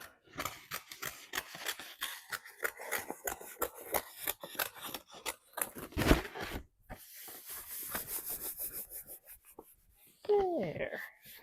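Scissors snip repeatedly through craft material up close, a quick run of crisp cuts with rustling and handling noises and a brief pause, ending in a louder scraping rustle.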